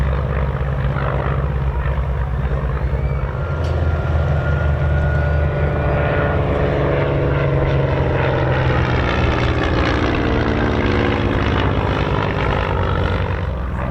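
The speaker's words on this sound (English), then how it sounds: "Simon Tilling above us in the Navian." A Navion propeller plane, an Army liaison model, drones overhead at an airshow, a loud, steady engine roar whose pitch slowly shifts as it passes, heard alone throughout.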